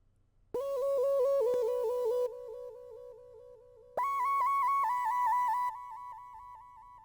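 A final counter lead melody in an FL Studio beat: a clean, bright synth plays two short phrases of held notes with quick little pitch flicks, separated by a brief quieter gap, loud and alone.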